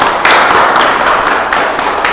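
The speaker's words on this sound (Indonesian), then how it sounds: "tepuk tangan" Classroom applause in an Islamic jurisprudence lesson, with a group of students clapping steadily and closely throughout, the claps dense and broadband with a few slightly louder bursts.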